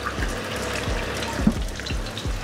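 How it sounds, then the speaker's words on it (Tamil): Water is poured into a simmering fish curry in a pot, giving a short run of splashing and bubbling gurgles with a few soft knocks. The sound is close and moderately loud, and no one speaks. "குழம்புக்கு தேவையான அளவு தண்ணியை சேர்த்து கொதிக்க வைக்கும்."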